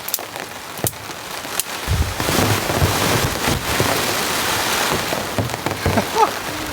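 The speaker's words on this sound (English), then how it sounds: "These are some strong winds. The rain's coming in sideways." Heavy rain pours down sideways on a campsite while strong gusts of wind roar and buffet, a dense loud wash with occasional sharper knocks.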